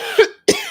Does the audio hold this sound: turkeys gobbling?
no